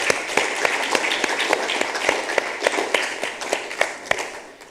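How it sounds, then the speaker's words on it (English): Conference audience applauding after the morning talks at a technicians' sustainability and innovation event, a steady wash of many hands clapping with sharp individual claps standing out, sustained for the whole stretch. "if we can give them a round of applause for the talks this morning."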